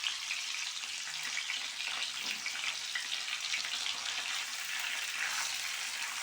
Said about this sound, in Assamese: এতিয়া পিঁয়াজ ভজা চেম কেৰাহীখনতে ডিমকেইটা ভাজি ল'ম